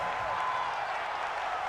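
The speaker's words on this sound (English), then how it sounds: "The crowd's not doing that O-line any favors." A stadium crowd roars in a Madden 20 simulation of the Dolphins at the Patriots, with the home fans making a steady, faint wash of cheering noise.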